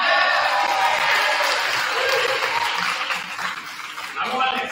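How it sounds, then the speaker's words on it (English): A homecoming coronation audience in a school setting cheers and applauds loudly, a dense continuous roar of clapping and shouting that swells and fades slightly over a few seconds. "You can cheer."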